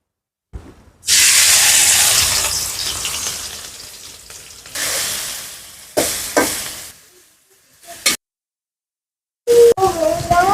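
Small shrimp seasoned with turmeric, chili and salt, hissing into a loud sizzle as oil is added to the pan, fading, then flaring again in short bursts with a brief pause.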